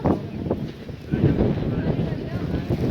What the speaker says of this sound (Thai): ลมโพดโพพี่น้องเอ้ย